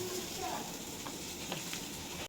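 Chicken frying in a pan at home, a steady close sizzle filling the short moment with brief clinks of stirring and no talking.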